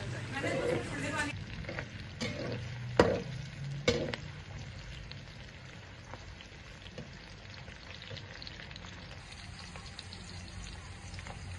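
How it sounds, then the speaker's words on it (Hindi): Onions fry in oil in a kadai, giving a soft crackling sizzle. Spoon clatters and knocks come near the start, then it settles to a quieter steady frying hiss, with a voice speaking over it. "अब मैं ये प्याज़ों को मैंने ऑयल में शामिल कर दिया है"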